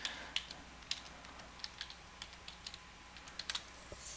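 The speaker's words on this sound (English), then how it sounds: "So you can type in what you like" Keys clack on a computer keyboard in short irregular bursts as text goes into a stamp-cataloguing program, close and fairly quiet against a faint background hum.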